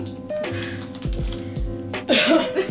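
A person clears their throat close by with a few rough, voiced rasps and grunts in quick succession, and no other voice is heard.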